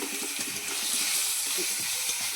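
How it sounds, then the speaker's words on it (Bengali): Singhi fish rubbed with salt and turmeric frying in oil in a wok, a dense close sizzling hiss with steady popping and spattering crackles throughout. "কীরকম ফাটতেছে শব্দ হচ্ছে, চাপা দিয়ে দিয়ে মাছটা ভাজতে হবে"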